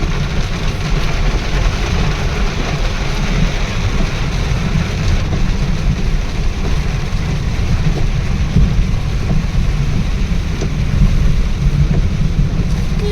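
Heavy rain pouring outdoors on a rural road in the Konkan region, a loud, dense, continuous hiss with a deep wind-like rumble underneath, unbroken for the whole stretch and without speech.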